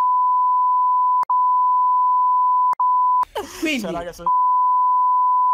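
Steady sine-tone censor beep covering swearing in a Pokémon Diamond let's play, running continuously with two brief dropouts, then a short burst of Italian speech before the tone resumes alone.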